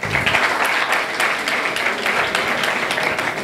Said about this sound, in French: Aussi, il faut les applaudir, ces deux équipes.